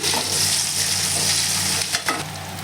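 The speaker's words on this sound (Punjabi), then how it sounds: "ਪਿਆਜ਼ਾਂ ਨੂੰ ਆਪਾਂ ਨੇ 2 ਮਿੰਟ 2 ਮਿੰਟ ਭੁੰਨਣਾ ਹੈ ਆਲੂਆਂ ਦੇ ਨਾਲ" Chopped onions frying together with potatoes in a pan give off a steady, close sizzle, broken by the scrape and rustle of stirring.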